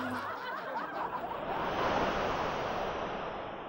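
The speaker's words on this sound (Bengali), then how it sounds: "সমুদ্রের গর্জন" Sea waves roar and wash against the shore in a continuous broad rush that swells toward the middle, close and steady, with no talk.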